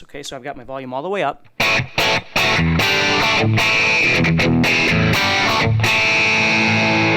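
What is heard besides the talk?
electric guitar chords with distortion, volume up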